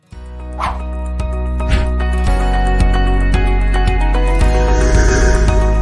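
A dog barks a few times over steady music, with separate yips and woofs spread across the stretch.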